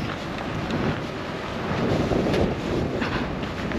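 Steady wind roars and buffets against the microphone, a loud continuous rush that swells slightly midway, with no voices.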